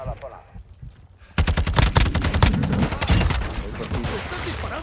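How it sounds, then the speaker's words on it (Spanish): Rapid automatic gunfire in a Call of Duty Modern Warfare II match, a quiet lull giving way to loud, dense bursts of machine-gun shots that continue steadily with game voice callouts mixed in. "¡Están disparando a aliados!"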